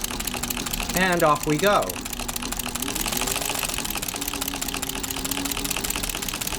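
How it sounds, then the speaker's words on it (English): A Singer 201 sewing machine with a buttonholer attachment runs with a steady, even mechanical whir and fine rapid ticking that continues to the end, after a short spoken remark at the start. "So I sink my needle into the fabric and then I start my buttonholer."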